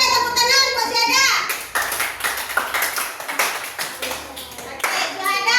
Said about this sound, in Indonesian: Oke, tepuk tangan masih ada.